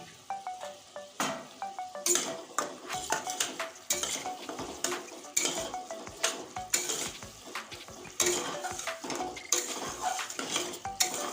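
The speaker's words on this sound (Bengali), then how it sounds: "আরও কিছুক্ষণ কষতে থাকো যতক্ষণ মশলা থেকে তেল না ছাড়বে ততক্ষণ কষতেই হবে" Chickpeas and ground coriander and turmeric being cooked down in a pan, with repeated metal spoon scrapes and clanks against the pan over a low frying sizzle, steady and close.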